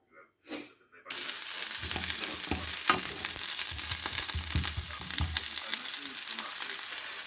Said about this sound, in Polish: Tu są pokrojone też pieczareczki z cebulką i na razie wrzucamy to.